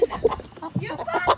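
Chickens being moved to a new coop cluck in short bursts, fairly close, mixed with excited voices of people talking.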